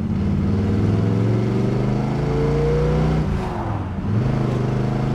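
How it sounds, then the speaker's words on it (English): A 1969 Chevrolet Camaro SS in Baldwin Motion style accelerates with a steady, loud engine drone and a climbing pitch that falls away briefly near the end before it pulls again. "The car has good acceleration."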